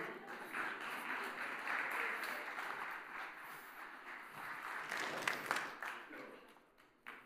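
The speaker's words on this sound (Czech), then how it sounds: "zatleskáme vítězi" Audience applause for a contest winner at a Czech banking event, a sustained moderate patter of clapping with some voices and movement mixed in, tapering off at the end.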